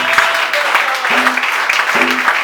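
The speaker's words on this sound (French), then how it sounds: "Let's clap for him." A church congregation claps together during a bilingual French and English sermon, a steady mid-loud patter of many hands with a few voices rising over it.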